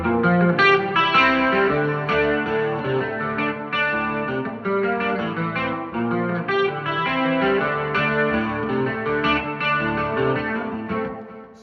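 Someone plays a Gibson ES-355 electric guitar through effects such as chorus and distortion. The chords ring out loud, steady and layered for the whole stretch, with no voice.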